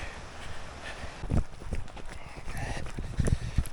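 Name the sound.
horses walking past on a trail, hooves clip-clopping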